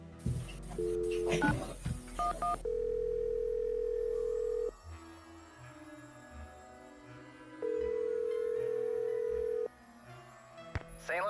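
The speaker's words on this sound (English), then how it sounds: "Go ahead and use the phone in the ticket booth." A telephone in a ticket booth in a Nancy Drew video game: a steady dial tone, then bursts of keypad tones as the number is dialed, followed by long pauses and another sustained tone, with a faint background hum.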